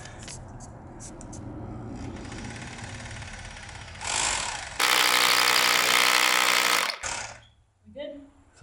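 A power drill whines and grinds up close while drilling garage posts, rising to a loud sustained buzz for a few seconds before cutting off abruptly.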